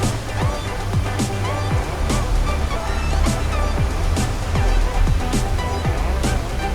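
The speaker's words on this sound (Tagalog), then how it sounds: "Ang ganda ng water pagbagsak dun sa rocks." Water tumbles onto rocks outdoors, a loud, constant rushing wash that fills the whole stretch with no clear speech over it.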